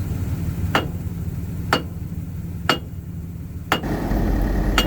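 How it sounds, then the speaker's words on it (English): A hammer strikes metal on a farm truck near the wheel studs, four sharp, evenly spaced clanks about one second apart, loud and close over a low steady background hum. "I'm getting pretty tired of swinging that stupid hammer."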